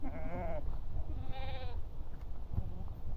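Sheep in a flock offered for sale bleat twice in quick succession, wavering nasal calls fairly close by, over a low background murmur of the pen.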